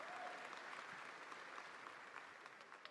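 Scattered applause from a handful of people at the back of the audience at a Gamescom opening night showcase, thin and fairly faint over a hushed crowd.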